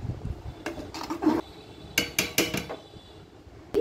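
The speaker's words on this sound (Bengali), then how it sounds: "হাঁড়িটা ঢেকে দিচ্ছি" A lid goes onto a cooking pot of khichuri, giving several close metallic clanks and clinks in short bursts against quiet kitchen background.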